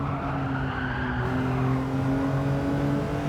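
A BMW Z4 3.0i slides in Gran Turismo 7. A steady droning engine runs under a rasping tire skid, close and continuous, with no talking.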